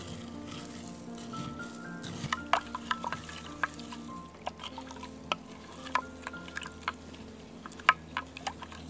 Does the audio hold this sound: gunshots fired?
no